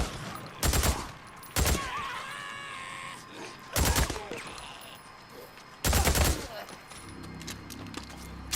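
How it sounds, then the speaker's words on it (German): Gunfire in the video game Days Gone as a whole magazine is emptied, with four loud bursts of rapid shots separated by quieter stretches of game ambience and groaning. "ganzes Magazin reingeballert"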